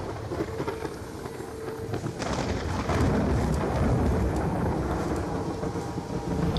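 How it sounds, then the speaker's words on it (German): Steady rain and rolling thunder from a thunderstorm in Black Ops 2's Tranzit mode, a continuous dense wash of noise with low rumbles that swell slightly midway, no voices. "Ich höre das Gewitter nonstop"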